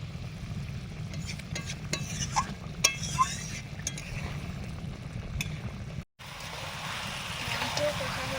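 Chicken being sautéed in a pan for a Bengali capsicum murgi dish, a steady low sizzle with scraping stirs and occasional clinks of a spoon on metal, a voice talking over it.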